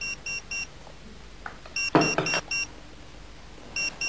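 A pager beeping in a quiet room: a quick run of three short electronic beeps, a soft rustle and thump, then the same beeps returning at the end.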